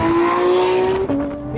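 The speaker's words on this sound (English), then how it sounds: "Harry's added a JCR exhaust to it, and I wish you were here to listen to it in person because it's pure race car" A Porsche 911 GT3 with a JCR exhaust revs hard, a loud high-pitched engine wail climbing steadily, then dropping abruptly with a brief break before holding a lower tone, close and unaccompanied by talk.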